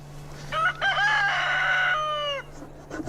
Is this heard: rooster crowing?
yes